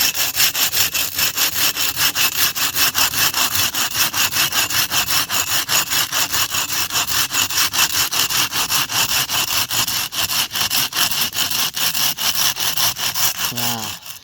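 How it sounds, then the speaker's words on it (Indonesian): A hand saw rasps steadily through a fibrous tree fern trunk, fast regular back-and-forth strokes, loud and close, continuing without pause. "Kita coba gergaji."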